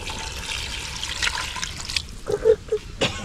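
Water splashes and trickles into a cooking pot of karabas in an outdoor hut kitchen, a few short gushes near the end over a steady background hiss.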